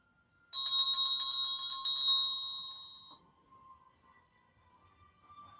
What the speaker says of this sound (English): Let's ring the bell and begin.